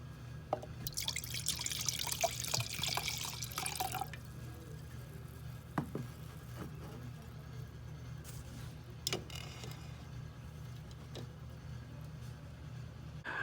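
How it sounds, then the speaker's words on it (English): Bootleggers pumpkin spice wine pours into a glass, a soft liquid trickle in the first few seconds followed by faint drips and small clinks against a quiet room hum. "what we'll do is we'll go ahead and pour this wine"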